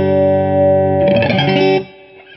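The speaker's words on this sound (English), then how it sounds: "Reverb's a lot nicer." Electric guitar through an upgraded Fender Deluxe amp with reverb: a sustained chord rings out, then a quick flurry of picked notes is followed by a reverberant tail decaying to silence.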